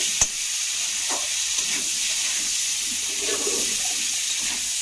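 Cauliflower pieces fry in a pan with salt and turmeric, giving a steady hiss of sizzling oil close by, with a sharp knock near the start and occasional soft stirring scrapes.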